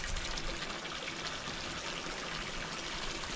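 Water running steadily into a cattle water trough on a small farm, a constant close gushing hiss with no talk.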